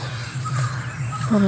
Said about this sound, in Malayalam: പക്ഷികളൊക്കെ ചിലയ്ക്കുന്നു